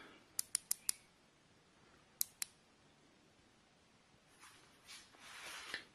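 A Vitchelo headlamp button gives a quick run of small, sharp plastic clicks, four close together, then two more after a pause, followed by faint rustling handling noise near the end.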